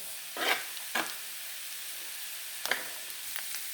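Clam meat frying in masala in a pan, stirred a few times: short scraping, sizzling bursts with pauses in between, close and fairly quiet, no talking.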